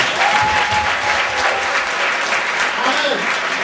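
A church congregation bursts into loud, sustained applause for the Lord, dense clapping filling the room for several seconds while a voice carries over it.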